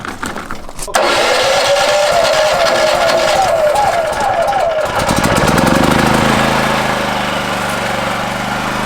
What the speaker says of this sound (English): It's actually not that loud for being an open frame generator as opposed to like the closed-in ones